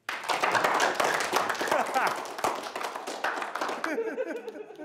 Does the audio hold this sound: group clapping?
yes